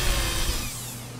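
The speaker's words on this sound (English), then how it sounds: "Your drill will drift and it'll go off." A power drill bores into a wooden knife handle for a hidden tang, giving a loud, continuous grinding whir that eases off near the end, with no talking.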